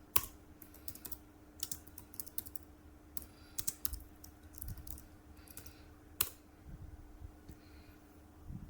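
A computer keyboard is typed on while a student ID number is entered into a simple program. The keystrokes are quiet and irregular over a faint steady hum.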